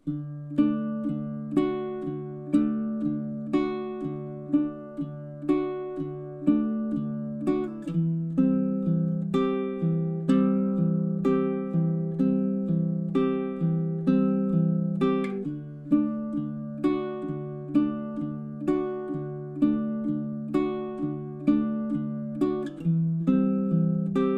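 A baritone ukulele plays a two-chord fingerstyle song in steady time, with a continuous run of plucked notes and bass patterns repeating in even phrases, close and clear with no voice.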